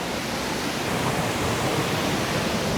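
A waterfall near Melbourne rushes steadily as heard from a lookout point, a broad, even hiss of falling water heard alone and at moderate distance.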